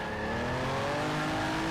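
Race car engine in the Grand Prix Legends racing game, revving high through the gears, loud and sustained with rising and falling harmonic tones over the full moment, no talking.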